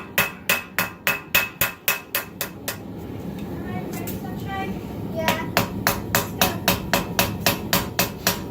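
A hammer forges the clip of a Bowie knife blade in crisp, ringing blows about three per second, a run of strikes, then a pause of about two seconds, then another steady series.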